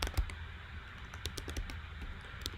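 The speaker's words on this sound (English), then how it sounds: "I'm just typing" Steady, fairly quiet typing on a computer keyboard, with irregular bursts of keystroke clicks over a low background hum and no talk.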